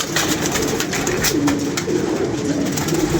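Pigeons coo steadily and softly nearby, their low, rolling calls repeating over a constant outdoor hiss.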